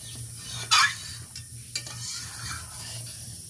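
A spatula stirs oil-free mango chutney in a pan, giving a couple of sharp scraping clinks against the metal over a soft steady sizzle, close and without speech.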